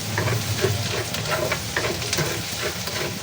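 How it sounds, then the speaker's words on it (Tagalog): Garlic sautéing in a pan for a creamy chicken mushroom dish, a steady close sizzle and fry with faint stirring scrapes throughout, no talking. "Saute po natin yung bawang."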